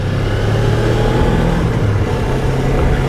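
A Suzuki GSX250R motorcycle engine idles and is put into gear, a steady loud low-pitched rumble close by with no talk over it.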